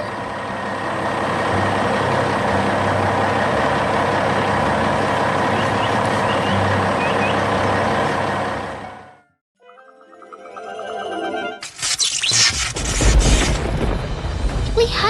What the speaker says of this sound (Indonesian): Sekarang truk-truk itu bisa melanjutkan perjalanan mereka dengan aman.